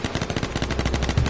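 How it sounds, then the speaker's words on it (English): Rapid gunfire in a video game, dense bursts of shots aimed at the player with a steady rattling rhythm, loud and continuous throughout with no talk over it. "They're shooting me like a motherfucker."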